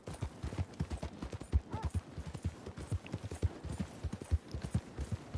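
Steady clip-clop of horse hooves trotting at a quick even rhythm in the video game Red Dead Redemption 2, close and continuous, with no talking over it.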